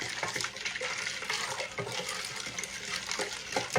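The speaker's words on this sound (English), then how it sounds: "I'm fixing to fill the rest of it up with water" Water pours from a tap into a gallon pitcher of sweet tea, a continuous rushing, splashing flow close by that rises and falls slightly in strength.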